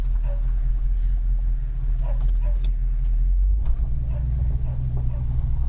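A 1974 AMC Javelin drives along with a steady low rumble from its Model 20 rear axle fitted with a PowerTrax No-Slip, engine droning continuously, and someone speaking briefly over the road noise.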